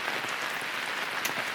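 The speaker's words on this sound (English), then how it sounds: "that rain has not let up at all" Steady rain falls at a remote lake campsite on Vancouver Island, heard from under a gazebo as a constant close hiss with scattered soft patters and no voices.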